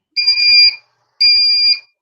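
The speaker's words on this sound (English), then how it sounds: "I had to cut that off. That alarm." A fire or smoke alarm sounds two loud, piercing electronic beeps, each about half a second long and separated by a short gap, with no voices underneath.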